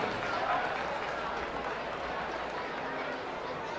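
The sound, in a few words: audience applause for livestock show exhibitors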